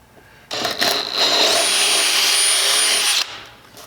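A power drill boring through a stainless steel cavitation plate for a classic plywood boat, a loud whining burst of about three seconds with a rising pitch, heard alone.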